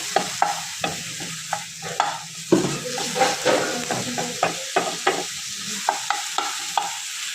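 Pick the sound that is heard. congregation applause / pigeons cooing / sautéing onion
sautéing onion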